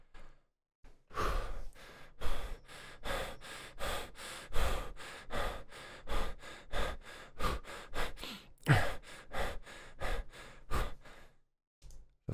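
A person breathing heavily and out of breath, producing a close, steady series of rapid, loud panting inhales and exhales, about two per second, with no speech.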